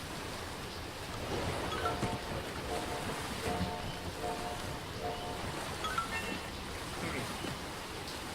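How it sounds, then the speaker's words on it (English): Rushing, surging water in the video game Rayman 1 (DOS), a broad hissing roar, fairly quiet overall, swelling slightly partway through and continuing steadily to the end. "That water is really loud."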